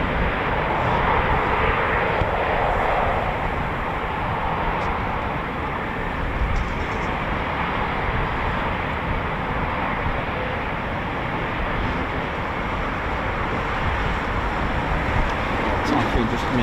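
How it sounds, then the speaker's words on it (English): Eurofighter Typhoon FGR4 fighter jet coming in to land at an RAF airfield, a loud steady jet roar with deep rumble throughout, with a voice talking over it. "Typhoon just coming into land now, here it comes."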